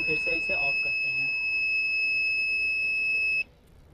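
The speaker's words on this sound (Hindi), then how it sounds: "गाइस यहाँ पे आप देख सकते हैं हमारा अलार्म ऑन हो गया है" A steady, shrill electronic alarm tone from a solar soil-moisture plant watering alarm sounds continuously for several seconds under brief talk, then cuts off abruptly.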